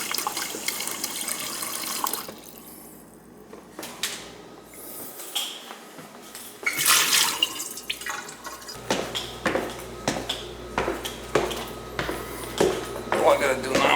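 Tap in a winterized summer home sputters and spits as water comes back on, with irregular gushing splashes and drips swelling into a steadier flow, loud and close.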